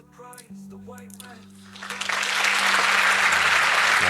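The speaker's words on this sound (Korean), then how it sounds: "자, 박수 한번 드리도록 하겠습니다" Applause swells from about two seconds in and holds steady and loud to the end, with dense clapping following a brief stretch of speech and a sustained tone during a live Korean stock-investing broadcast.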